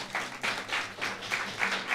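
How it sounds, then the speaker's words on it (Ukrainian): Audience applause for a contestant at the WBC 2025 final, a moderate crowd clapping in loose rhythmic waves, fairly close and sustained without voices. "Прошу ще трохи оплесків для Артема."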